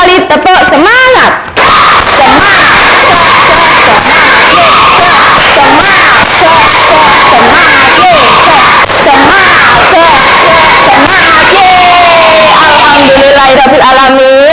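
A classroom of fifth-grade pupils doing a rhythmic spirit clap, loud and continuous with shouted cheers and whoops mixed into the clapping, ending in a rising chant near the close.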